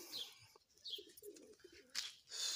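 Pigeons kept in a backyard loft give soft, low coos alongside a few higher chirps from other birds, faint and fairly close, with no talking.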